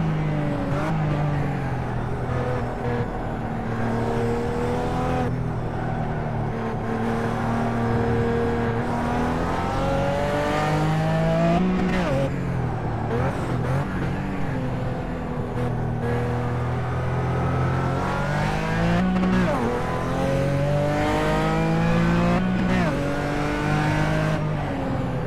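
A RUF race car in iRacing at Twin Ring Motegi, its loud engine blipping and dropping through gears on downshifts, revving up and down continuously with a few tire squeals and no voices.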